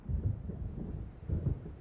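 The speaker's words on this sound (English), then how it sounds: "It seems there's a storm coming." Thunder from an approaching storm in the video game Alan Wake, deep rolling rumbles at a distance that swell twice in low, heavy bursts.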